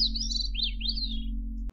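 A gray-cheeked thrush sings a single fluting, wavering phrase that rises and falls. It is clear and close over a steady low hum, then cuts off abruptly.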